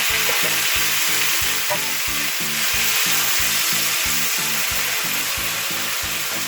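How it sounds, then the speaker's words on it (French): Seafood mix for paella sizzles and fries steadily in a hot pan, a close, continuous crackle with rhythmic stirring or scraping pulses throughout and no talking. "Donc je rajoute le mélange de fruits de mer."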